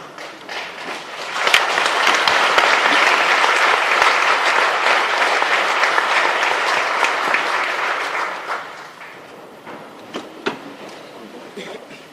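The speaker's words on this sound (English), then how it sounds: "we give a thunderous clap for the great sermon the Archbishop" A church congregation at an Ankole Diocese service gives a thunderous burst of applause for the Archbishop's sermon, loud and sustained clapping that fades after several seconds into scattered claps.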